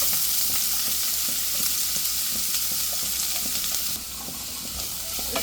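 Chopped medium onion sautéing in a pan for mushroom rice, a steady dense sizzle with occasional stirring scrapes, close and continuous with no talk.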